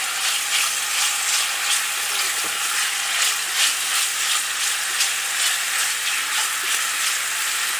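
Chicken fries in about a spoon and a half of oil, giving a steady, loud, bright sizzle and crackle that runs unbroken throughout, with no voices.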